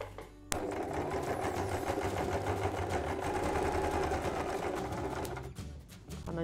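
Domestic sewing machine stitching layers of fabric for a baby travel changing mat, a steady close whirring hum that runs continuously after a sharp start and eases slightly near the end.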